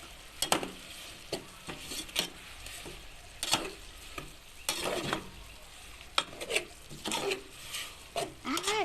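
Chicken breast and small-leaf holy basil stir-fried in a pan without oil, with a spatula scraping in short repeated strokes and a faint sizzle between, heard alone at close range.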